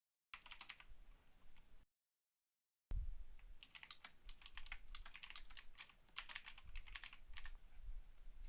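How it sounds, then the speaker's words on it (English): Rapid, light clicks of fingers typing on a computer keyboard, close and fairly quiet, rattle on in uneven bursts after a short pause, with no talking. "What you typing?"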